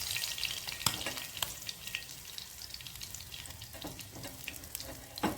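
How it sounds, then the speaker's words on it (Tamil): Fish frying in hot oil, with a continuous close crackling sizzle broken by scattered sharp pops and spatters throughout. "இப்போ வந்து மீன் பொரிஞ்சிட்டு வடிவா நாங்கள் இறக்க போகிறோம்"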